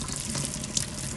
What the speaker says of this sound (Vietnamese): Bây giờ mình sẽ xả rửa dưới vòi nước nhẹ nhàng thôi nhá